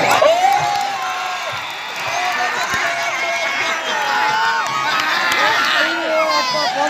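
A crowd at a village kabaddi match cheers and whoops loudly throughout, with shouting voices and a commentator talking over the noise.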